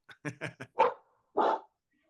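Dogs bark in a quick burst of four short woofs, then two longer, louder barks after a pause, close and clear with no other sound around them.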